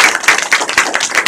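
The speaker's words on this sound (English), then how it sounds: "we can give him a huge round of applause" Small workshop audience claps for a speaker at a hackathon talk, a short close burst of individual claps with an uneven rhythm, loud and distinct rather than a dense crowd roar.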